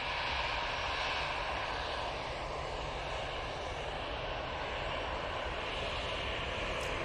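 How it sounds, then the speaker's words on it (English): A Singapore Airlines A350 airliner at Manchester Airport gives a steady, distant engine roar with broadband rumble, holding at an even, moderate level throughout with no voices. "I was going to stay on this beautiful Singapore A350"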